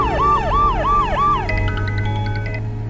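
Ambulance siren in a Telugu movie scene, loud and close, a rising-falling wail repeating about four times before switching to a rapid high-low electronic yelp over a low engine rumble.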